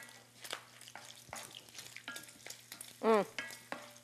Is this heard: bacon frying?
yes